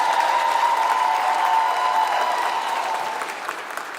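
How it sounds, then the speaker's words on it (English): Another round of steady crowd applause at an airport centennial celebration, loud and even for a few seconds before gradually thinning out. "So let's give another round of applause for Jan Lemon,"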